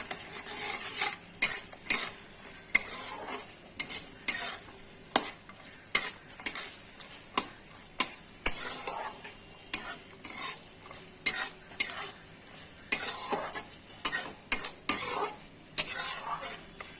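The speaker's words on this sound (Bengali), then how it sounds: "মশলার মধ্যে এখন শুকনো সয়াবিন, প্যাকেট থেকে বের করা শুকনো সয়াবিন, এগুলো দিয়ে দিলাম। এখন ভালো করে নাড়াচাড়া করব।" Dried soybean chunks being stirred in masala in a pan, with regular scraping strokes of a spoon against the pan over a soft sizzle, close and repeated throughout, no talking.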